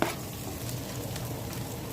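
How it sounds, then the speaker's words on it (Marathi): Potato pieces frying in a pan with crushed peanut powder and green chilli on an electric stove, a continuous soft sizzle with faint stirring, fairly quiet and steady, no talking. "आता बटाटा घालून बटाटा बी पटकन भाजून घ्या."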